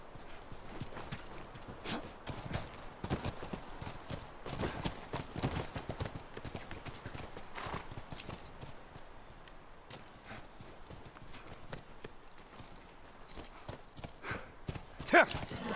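Steady, quick hoofbeats clip-clopping continuously as a horse moves along in The Last of Us Remastered, with faint voices in the background.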